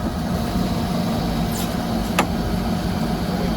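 A backhoe's diesel engine idles steadily and close while its stabilizers are lowered, a low continuous rumble with a brief squeak and click partway through.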